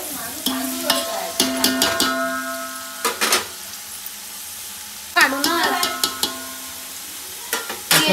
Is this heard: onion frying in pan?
yes